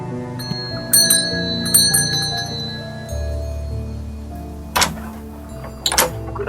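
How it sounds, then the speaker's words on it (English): In the video game Contradiction a doorbell rings, bright chiming strikes repeating several times over a low background tone, clear and close. "Let's ring the doorbell and see what we can get."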